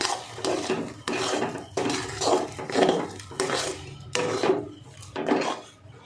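Roasted spice being stirred into an amla mixture in a pan, a series of repeated scraping, rubbing strokes of a utensil against the pan in a steady rhythm, close and clear.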